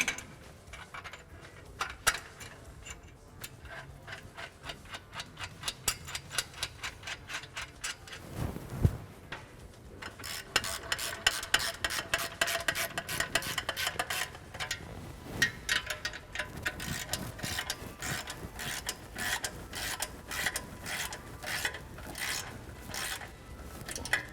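A ratchet installs header collector bolts in a garage, with rapid clicking bursts and rasping turns in irregular runs over about twenty seconds. The sound is close but fairly quiet, with light clanks between the bursts and no talking.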